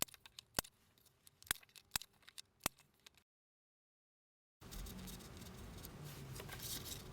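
Scissors snipping paper rectangles to round off their corners, a run of sharp, close, separate cuts at an irregular pace, then a pause and a steady hiss of background noise.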